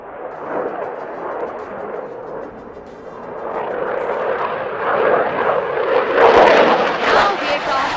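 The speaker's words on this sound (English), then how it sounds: "it is time to witness the agility of the aircraft to carry out a max rate turn" A fast military jet flies a max rate turn during the Aero India 2025 aerial display, its steady roaring engine noise swelling louder and harsher toward the end, mixed with a commentator talking over a loudspeaker.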